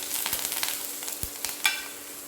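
Curry leaves, green and red chilies and pounded pepper fry in a pan for coriander rasam. A soft, quiet sizzle runs under a series of light clicking stirs of a spoon against the pan.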